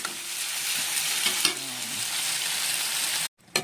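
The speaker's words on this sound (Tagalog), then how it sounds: "I-fry na natin yung mga garlic, onion, and mushroom" Garlic, onion and mushroom fry in a pan, a steady close sizzle with faint stirring scrapes that cuts off abruptly near the end, followed by a brief return of sizzling.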